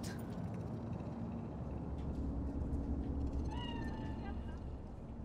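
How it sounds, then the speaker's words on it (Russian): A cat meows in Cyberpunk 2077, a short, faint mew set under a constant low rumble of city ambience, with no speech over it. "Кот."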